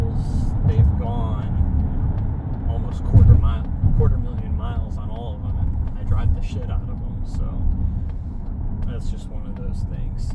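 A 2025 Mazda CX-70 cruising on a highway, heard from inside the cabin as a steady low road and engine drone with tire hum, while someone talks over it throughout.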